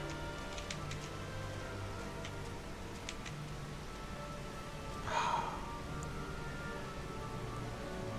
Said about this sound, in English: The rain effect is lovely.